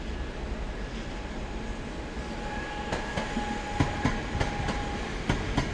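A train pulls out of Katowice station heading for Gliwice, a steady rolling rumble with rhythmic clicks and clacks of wheels over rail joints building through the second half, moderately loud.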